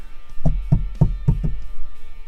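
A series of hollow knocks from a Unimog camper's hatch closing, about five in quick succession, followed by a low background hum.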